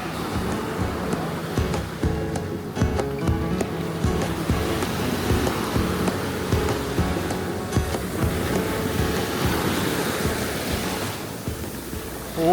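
Sea waves wash onto a beach on a southern coast, a constant broad roar of surf with wind, while people talk over it.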